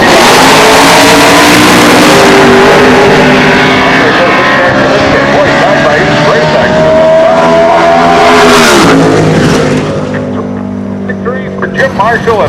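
A Mustang race car's engine roars loudly on a racetrack, a sustained high-speed drone with rising pitch as it passes close by, then fades away, with a commentator talking over it.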